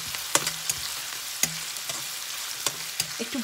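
Cardamom, cinnamon, cloves and garlic frying in hot oil for chicken biryani, a steady close sizzle with a few sharp clinks of a spoon against the pan.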